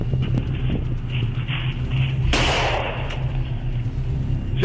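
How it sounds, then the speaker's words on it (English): Gunfire captured on a police body camera during a live incident, a loud broadband burst of shots mid-clip over steady engine-like rumble and background noise. "Shots fired!"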